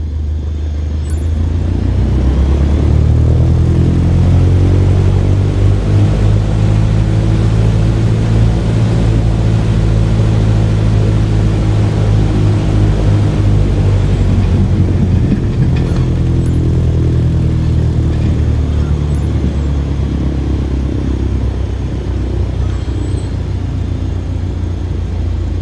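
Aircraft engine roaring at full takeoff power in Microsoft Flight Simulator 2020, a loud, continuous low drone that builds slightly and holds steady throughout, heard alone with no talking.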